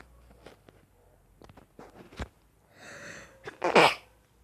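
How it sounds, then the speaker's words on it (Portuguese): A single abrupt human sneeze bursts out near the end, loud and close, after quiet shuffling and faint background noise indoors. "Espirrei sem querer"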